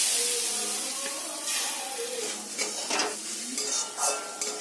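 Blended lentil fritters sizzle in ghee in a wok while sweet-shop style motichoor laddu is made, a soft crackling hiss with a few metal scrapes and clinks of a stirring ladle.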